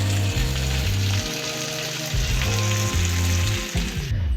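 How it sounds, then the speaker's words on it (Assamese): Fish pieces frying in oil for an Assamese sour fish curry, a loud steady sizzle and crackle close up with an underlying bubbling hiss, continuing without pause. "মাছখিনি কমকৈ ফ্ৰাই কৰি ল'লোঁ"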